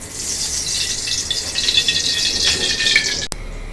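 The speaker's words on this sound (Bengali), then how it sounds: "আমি এখন তেল দিয়ে দেব।" Cooking oil poured into a preheated kadai gives a steady, close liquid gush and trickle with a faint sizzle, ending abruptly after a few seconds.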